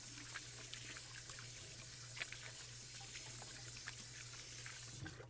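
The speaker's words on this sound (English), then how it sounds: "I'm going to wash my hands real quick" Tap water runs steadily into a kitchen sink while hands are washed beneath it during a fried shrimp po' boy cook; a continuous close splashing wash with a low hum underneath and no talking.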